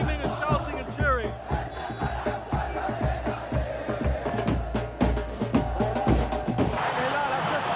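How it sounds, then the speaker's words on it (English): Football fans in a Saudi Pro League stadium roar, shout and cheer as a loud, dense crowd mass with rhythmic chant-like pulses, while a voice talks close over it. "the fans are still screaming and shouting and cheering"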